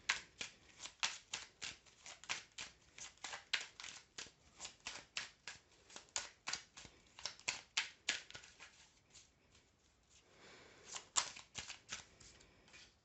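Tarot cards are shuffled in a quick, rhythmic run of crisp riffling snaps, repeated steadily and heard close and alone. A short pause comes near the end before a few final shuffles.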